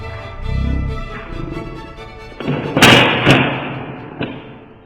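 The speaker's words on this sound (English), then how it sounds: "I'm pulling the trigger one time." Clicking kickback of a PlayStation 2 light gun as the trigger is pulled once, several close mechanical thumps and clacks bouncing in quick succession.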